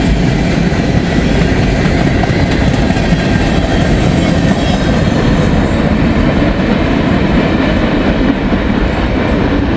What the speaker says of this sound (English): And there goes Norfolk Southern 262.